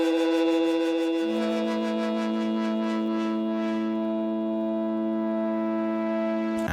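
A sustained synth patch from a Korg Minilogue, processed with chorus and vinyl distortion effects, plays a held chord that shifts once early on, with a gritty, swirling texture throughout.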